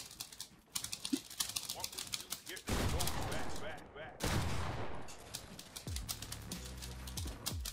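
Rapid bursts of video-game gunfire, sharp repeated shots in quick volleys with a couple of heavier blasts in the middle, loud and close, with a person talking over the shooting.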